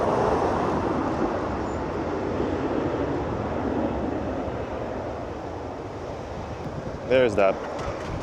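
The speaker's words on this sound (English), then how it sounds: "There's that gust." Gusting wind buffets an outdoor microphone beside a Taipei plane-spotting street near Songshan Airport, a steady broadband rumble and hiss throughout, with a brief sharper burst near the end.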